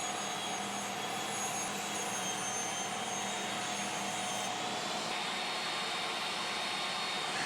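An upgraded jobsite table saw runs at full speed for its first test cut, giving a loud, unbroken, close whine and rush of noise from start to finish with no talking.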